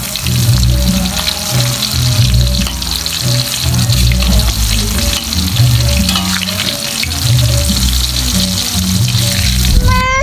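Salted diced purple eggplant fries in hot oil, a loud, dense and continuous sizzle and crackle with occasional bubbling pops and faint low clattering from the pan.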